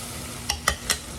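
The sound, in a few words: yellow squash frying in a pan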